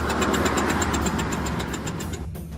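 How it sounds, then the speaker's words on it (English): A Mazda car engine running on three cylinders runs unevenly with a rhythmic, stumbling pulse, misfiring and rough, loud and close, with no voices. "Engine's gone, back on 3 cylinders."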